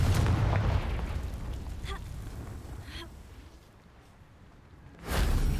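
Blasting-spell explosions go off in the Hogwarts Legacy video game: a heavy booming burst opens, a quieter rumbling stretch follows, and a second loud blast lands near the end.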